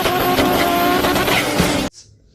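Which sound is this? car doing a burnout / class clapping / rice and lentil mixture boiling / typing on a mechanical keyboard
car doing a burnout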